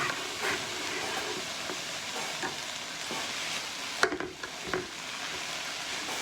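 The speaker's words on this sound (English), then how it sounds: "So in go the noodles there." Noodles stir-fry in a pan for a vegan stir fry with satay sauce, a steady sizzle and hiss broken by a few scraping, tossing knocks near the end.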